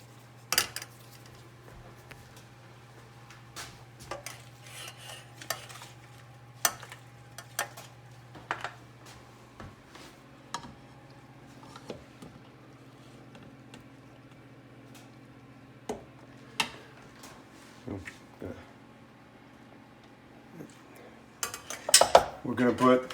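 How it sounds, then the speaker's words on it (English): Drained penne pasta is put into a baking dish along with Gouda: scattered clinks and taps of a utensil against the dish, soft squishes, and a louder clatter near the end, under a faint steady hum. "I'm going to put about half of our pasta,"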